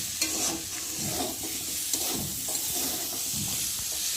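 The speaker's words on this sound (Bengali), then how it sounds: "সবজিটা মশলার সাথে ভালো ভাজা ভাজা হয়ে গেছে" Pointed gourd frying with spices in a pan for a korma, steady sizzling and hissing broken by repeated scraping stirs of a spatula, close and alone without speech.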